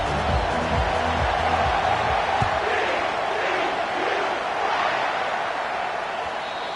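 A stadium crowd roars in a steady, loud wash of cheering at a college football game, with a commentator's voice talking over the start.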